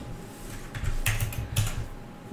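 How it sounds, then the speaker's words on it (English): Quick keystrokes on a computer keyboard, a short burst of crisp clicks and taps close to the mic, with no talk over them. "Drag off here, type in timeline"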